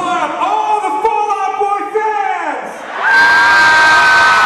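A concert crowd at a show in Grand Prairie, Texas screams and whoops in sustained unison. The roar fades briefly, then surges loudly again.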